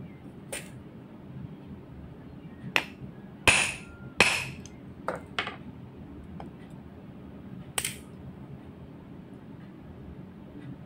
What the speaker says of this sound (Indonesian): masih kurang 1 mili kita coba pukul lagi